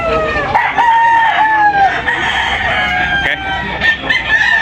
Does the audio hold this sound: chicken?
yes